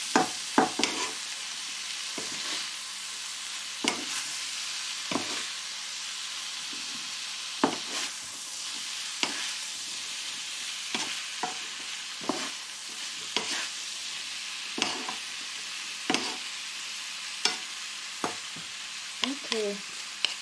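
Chinese-style noodles with vegetables and cucumber fry briefly in a pan, giving a constant close sizzle punctuated by regular sharp stirring taps and scrapes across the whole stretch.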